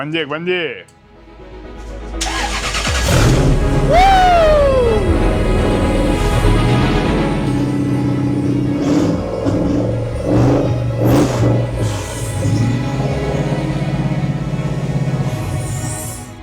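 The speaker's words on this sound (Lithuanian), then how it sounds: "Varikliukas dirba." A Toyota 1UZ V8 swapped into a BMW E46 cranks and fires up, then revs hard with rising and falling engine sweeps before settling into a loud, steady idle, with people talking nearby.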